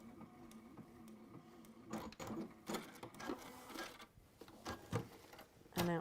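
Sewing machine stitching through textile layers, short bursts of rapid mechanical whirring and clattering separated by pauses, close and fairly quiet, with a faint soft voice in the background.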